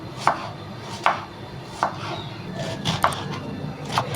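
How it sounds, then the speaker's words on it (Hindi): A knife chops onions on a cutting board with evenly spaced, crisp knocks about one per second, close and clear over a faint background hum. "सबसे पहले हम यहाँ पर प्याज की कटिंग करते हैं।"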